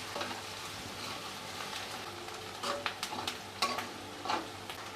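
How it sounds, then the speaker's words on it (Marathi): Onion, green chilli, a little coriander and asafoetida sauté in a pan with a soft, steady sizzle. A spatula stirs and taps against the pan now and then, the clicks growing more frequent toward the end, with no talking. "हिरवी मिरची, थोडीशी कोथिंबीर आणि हा हिंग परतून घेऊया।"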